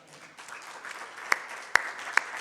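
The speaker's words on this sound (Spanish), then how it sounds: "¿No le da un aplauso al Señor?" Congregation applause at a Spanish-language church sermon: a soft, scattered clapping wash builds over a couple of seconds, punctuated by three sharp, louder claps near the end.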